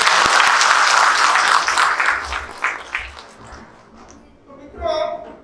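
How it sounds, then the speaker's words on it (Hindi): A seminar audience in a hall gives hearty applause that rolls on for a couple of seconds before dying away, followed by a voice speaking briefly. "अभी जोरदार तालियां बजाते हैं।"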